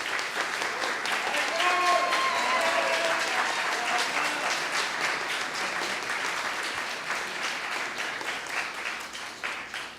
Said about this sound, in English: We'll give a round of applause to Michael Camacho.